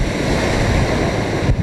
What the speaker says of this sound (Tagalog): Sa lakas ng hampas ng alon mula sa Manila Bay